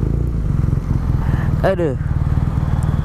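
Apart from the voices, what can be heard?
big motorcycles riding, motovlog on a BMW R nineT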